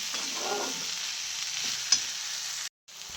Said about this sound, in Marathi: शेंगाला फोडणी देऊन घेतली